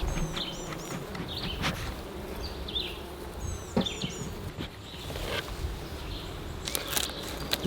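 Honey bees buzz around an open hive outdoors, a continuous close hum with individual bees whining past now and then, accompanied by faint birdsong and occasional rustling.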